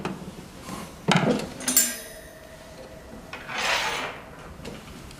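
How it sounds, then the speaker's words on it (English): A screwdriver backing screws out of the circuit board cover on a 3D sublimation vacuum machine makes a few sharp metallic clicks and scrapes, then softer rubbing and grinding turns, all close and fairly quiet. "Use the screwdriver to unscrew the 6 screws of the circuit board."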